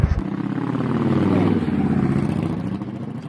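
A motorcycle passes close by a tripod-mounted camera, its engine note rising loudly and then fading as it moves away, with no talk over it.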